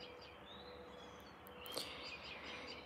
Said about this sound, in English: There's beautiful birds out there.